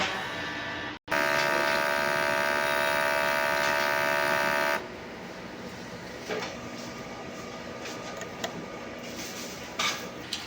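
An inkjet printer runs a head cleaning cycle, giving a steady mechanical whir and hum that drops out briefly, returns louder, then settles into a quieter motor drone with small clicks near the end.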